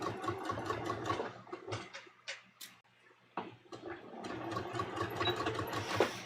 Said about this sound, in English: So I'm just basically going to sew straight down